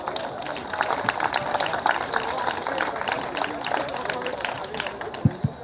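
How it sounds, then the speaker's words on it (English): Audience applause at a solidarity-for-Palestine gathering: a moderate crowd clapping steadily with a few louder individual claps near the end, mixed with light crowd murmur. "Let's give her one more round of applause, please."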